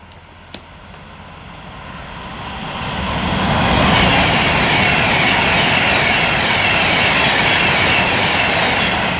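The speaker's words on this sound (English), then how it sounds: "now approaching will be 390-155 for Avanti West Coast, working 1 Alpha 69 from Manchester Piccadilly to London Euston" An Avanti West Coast class 390 electric train approaches Lichfield Trent Valley station on the West Coast Main Line, its rushing rumble building from moderate to loud over four seconds and then holding steady and close.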